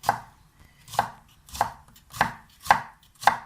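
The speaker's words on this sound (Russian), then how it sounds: "Я их очистила, помыла и режу." A kitchen knife slices cleaned, washed bell peppers into long strips on a cutting board, giving six crisp, evenly spaced chops close to the microphone, with no talking.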